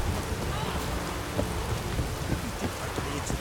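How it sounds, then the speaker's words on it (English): Steady rain pours across the scene in The Witcher 3, a dense, continuous hiss of drops on surfaces with faint low rumbles underneath, constant and fairly close throughout. "Rain's back again."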